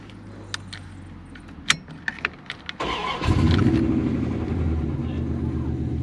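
A 1994 Dodge Dakota with its ignition turned by a screwdriver: a few light metallic clicks and taps, then the starter cranks briefly and the engine catches and settles into a steady close idle.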